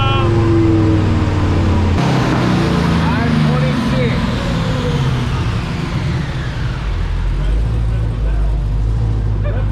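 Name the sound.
Dodge Demon car engine during a dyno run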